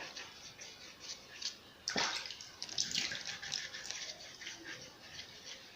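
Water splashes and sloshes while black bamboo charcoal soap is rinsed off, a faint running trickle with one louder splash near the start of the action and softer washing sounds after, no talk.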